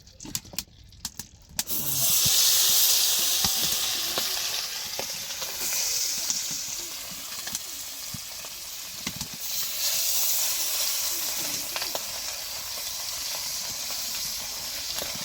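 Tengra fish hit hot oil in a pan and erupt into a loud, close frying hiss that surges then settles into a steady crackling sizzle, with faint spatters throughout.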